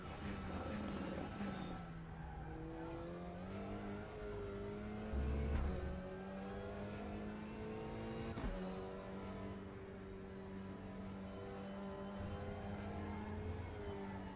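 A touring car engine in the Raceroom racing game holds a steady whine that rises and falls through gear changes and revs for the whole stretch, with no talk over it.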